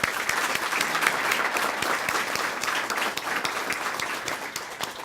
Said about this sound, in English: So we want to give you a great round of applause.